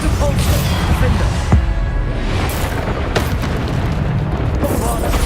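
Bombarda spell explosions in Hogwarts Legacy combat boom in repeated heavy bursts amid a chaotic battle mix, loud and close, with a voice talking over them.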